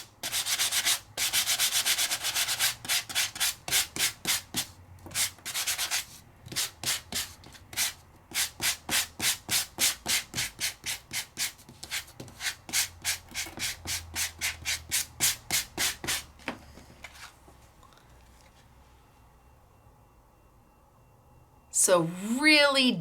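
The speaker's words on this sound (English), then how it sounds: "I can sand it to bring out some of the highlights." Deeply embossed craft card being sanded by hand in rapid rhythmic back-and-forth strokes, close and crisp, then slowing and fading before a short burst of other noise at the end.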